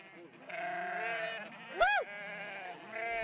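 A sheep bleats once, close and loud, over a steady outdoor background, with sheep grazing in the mountains in summer.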